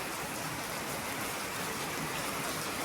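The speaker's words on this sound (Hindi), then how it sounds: "देखो हम सफाई कर रहे थे, कितनी तेज बारिश आ गई।" Heavy monsoon rain pours down steadily onto a courtyard floor, a dense, even hiss that continues without a break, loud and close, with no voices.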